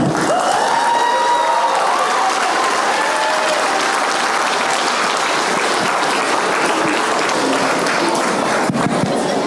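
An audience applauds in welcome for the president Dr. Srivasam Pallavaram at a community gathering, steady dense clapping filling the room from start to finish at a constant loud level, with no one speaking.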